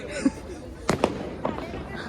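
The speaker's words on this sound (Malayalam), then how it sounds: "മലയാളി അസോസിയേഷന്റെ വക ഒരു പടക്കം പൊട്ടി ആണ് ഉള്ളത്" Firecrackers set off at a Malayali association gathering in Poland burst in two or three sharp cracks a short distance away, with people talking around them.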